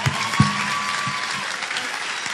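Audience applause at a school event, a steady wash of clapping from a crowd that carries on for the whole short stretch, with a few sharper claps standing out near the start.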